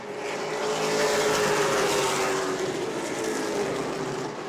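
Pro late model stock cars racing at New Smyrna, a loud, sustained engine roar that swells and fades slightly as the pack passes, heard from trackside without talk.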